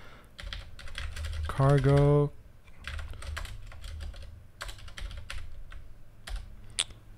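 Rapid clicking of computer keyboard typing continues throughout, close and moderately loud, with a brief spoken word and a short tonal sound partway through.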